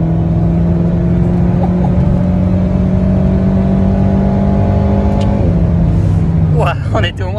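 A car at speed on a race circuit roars loud and close with a steady engine drone, the pitch shifting near the end as voices break in over it.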